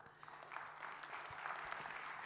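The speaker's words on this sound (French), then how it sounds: "que vous applaudissez, s'il vous plaît" Audience at an awards ceremony applauding a vice-president, faint and distant clapping that runs steadily throughout.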